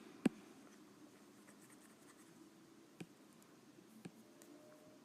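Pen writing on paper during a logic proof lesson, a faint steady scratching under low room noise, broken by three soft taps or clicks.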